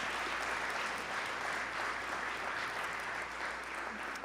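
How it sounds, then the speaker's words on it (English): Applause from a crowd, a steady wash of many hands clapping at once, fairly distant and sustained throughout. "Give yourselves a big round of applause"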